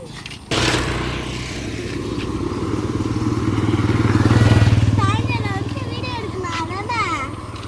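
A motorcycle passes on a road, its engine note rising steadily to a peak and then fading, with people talking throughout.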